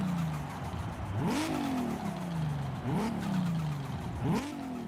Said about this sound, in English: just listen to this turbo blow off